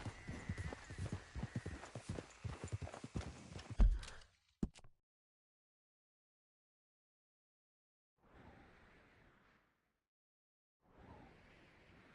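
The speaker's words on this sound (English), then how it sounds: "Giddy up." Rhythmic clip-clop of a horse galloping in the video game Red Dead Redemption 2, fast hoofbeats for about four seconds that stop abruptly, followed by silence and faint soft background bursts.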